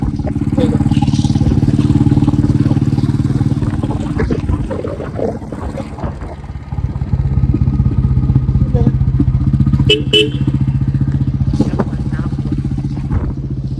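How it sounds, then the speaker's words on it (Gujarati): A Bullet motorcycle engine thumps steadily at close range while riding, its low rumble running throughout with wind buffeting the microphone and a brief dip in the middle. "ખરેખર બાકા દિશા કસમ છે જિંદગી પહેલી વાર બુલેટમાં બેઠો"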